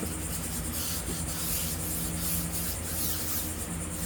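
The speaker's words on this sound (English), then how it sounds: "keep agitating the rubber, different angles, really scrub" A brush scrubs the rubber of a car tire during cleaning, giving a continuous close, rough rubbing sound at an even level with no talking.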